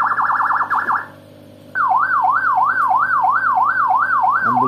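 A 60-watt six-tone motorcycle siren module playing an ambulance wail: a brief fast warble, a short pause, then a loud steady rising-and-falling siren cycling about once every half second, close and alone.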